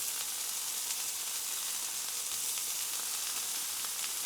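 Deer sausage sizzles and fries steadily in a pan, a close, continuous crackling hiss with small pops throughout and no talking.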